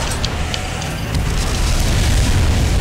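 Grenades explode in the mech combat game Armored Core, a loud, continuous booming rumble with dense low-end roar that swells slightly partway through.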